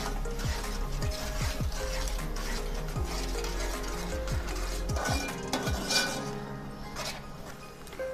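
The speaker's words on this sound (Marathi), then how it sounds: "आता वाटण आपण यामध्ये 1 ते 2 मिनिटांसाठी व्यवस्थित परतून घेऊया" Ground masala paste being sautéed in a pot for Maharashtrian village-style black masala chicken: steady metallic scraping and stirring clinks over a soft continuous sizzle, close and fairly quiet, with no voices.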